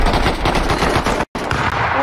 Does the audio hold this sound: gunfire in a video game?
yes